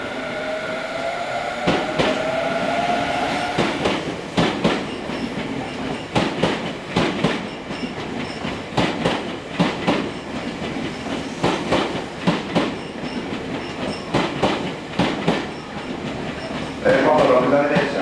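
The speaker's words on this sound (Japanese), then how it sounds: "回送電車が発車します。" A Tobu 50090 series out-of-service train pulls out of Shinrinkoen station, its wheels clacking over rail joints in a steady rhythm that builds as it departs. Platform announcements sound beneath the loud, close rumble.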